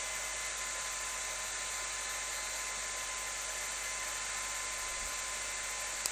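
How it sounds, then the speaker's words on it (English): A hairdryer gives a steady, high-pitched electric whine with a constant airy rush, running unbroken throughout, close and fairly loud, with no talking. "so I'm angling the hairdryer this way"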